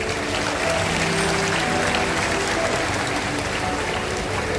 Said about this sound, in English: Let us all show them some appreciation right now by giving them a big round of applause.